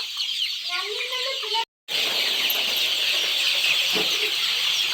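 Country chickens on a native poultry farm cluck and squawk amid a dense hiss of farm noise, with a short low clucking call early on, a brief dropout, then a steady flock din.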